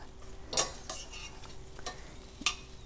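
Shrimp cooking in a pan over medium-low heat, a soft continuous sizzle broken by a few sharp scraping stirs and clinks of a utensil against the pan.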